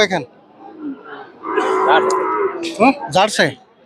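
A cow moos loudly and close by at a busy cattle market, one long drawn-out low call, with people talking nearby just before and after it.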